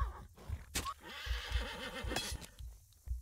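A video game horse lets out a loud, wavering whinny in the middle of a fight on a bridge, with clopping hooves and sharp hits punctuating the surrounding noise.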